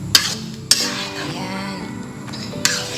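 Utensil scraping and clinking in a pan while stirring home-made spaghetti sauce, with three sharp metallic clinks against a low background of movement, close and fairly loud.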